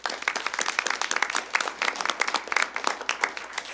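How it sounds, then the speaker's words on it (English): Scattered applause at a city council meeting, with distinct individual claps in an uneven, moderately close rhythm, fairly quiet and without talk. "One more big round of applause."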